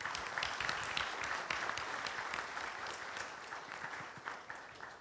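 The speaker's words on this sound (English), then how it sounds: "let's give a big round of applause to this lovely panel" Audience applause for a discussion panel closing a Q&A, a moderate crowd clapping in a busy, uneven patter that swells at first and gradually thins toward the end, heard from a distance and fairly faint.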